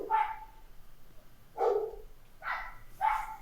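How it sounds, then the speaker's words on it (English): Dogs barking indoors, four short sharp barks spaced about a second apart, fairly close and clear over a quiet room. "Your dog's interrupted your train of thought."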